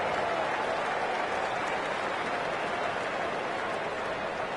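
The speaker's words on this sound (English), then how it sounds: "that's due to such a large crowd being here" A large crowd in a cricket video game cheers and applauds as a steady, dense wash of noise, with no talk over it.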